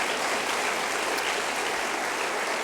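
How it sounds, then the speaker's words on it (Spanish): A church congregation claps in sustained, dense applause at a Spanish-language service, loud, even and continuous throughout with no talking over it. "Dale un aplauso al Señor."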